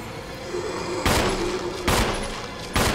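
Three heavy gunshots spaced about a second apart, fired at zombies in the Resident Evil HD video game, each a loud booming blast over a low murmuring background.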